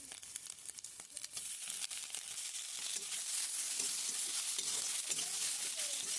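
Eggs and chopped tomato frying in a pan over a chulha, a bright, steady hiss of sizzling that swells and holds, with faint stirring scrapes underneath.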